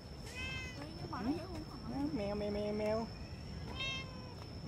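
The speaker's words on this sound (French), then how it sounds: "je finis par caresser les chats, comme d'hab" A cat meows several times in a row, drawn-out rising and falling cries, close and clear over a quiet background.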